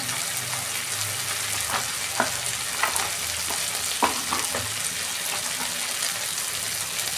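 Ground spices sautéing with ginger and garlic in a pan for a potato and snake gourd dish: steady close sizzle with a scattering of scraping stirs and clinks, no talk.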